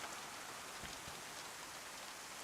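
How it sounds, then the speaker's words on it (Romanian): Steady rain falls in the survival video game DayZ, a continuous dense hiss of drops heard alone at low volume. "Dacă n-ar mai ploua, Dumnezeu, cred că ar fi mult mai ok."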